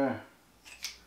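Scissors snipping while assembling a Hero Collector Ghostbusters Ecto-1 movie car model, two short close cuts at the end of a brief moment after a spoken word fades.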